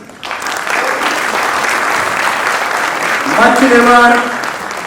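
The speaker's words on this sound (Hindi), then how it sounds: "फारूक अहमद, मुजीबुर रहमान और गोविंद राम जी के लिए जोरदार तालियां" Audience applause for the stage crew at a play during a foundation-day performance, a sustained wash of clapping that swells near the end, with a person speaking over it.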